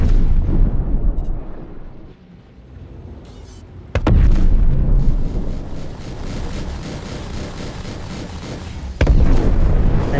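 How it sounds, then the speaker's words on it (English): Loud booming explosions roar in heavy bursts during a space battle in the video game Star Citizen, with a sharp blast about midway and another near the end, rumbling continuously between them. "Oh, such a satisfying sound, those explosions"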